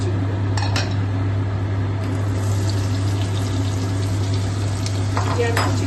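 Chopped onions with a bay leaf and whole garam masala spices fry in hot oil, giving a loud, continuous sizzle over a steady low hum, with a few faint utensil clinks.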